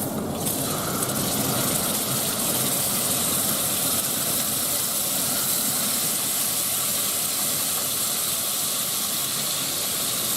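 Bean paste fries in hot oil in a wok for Sichuan-style potato chicken, giving a loud, continuous, close hiss and sizzle that stays steady throughout.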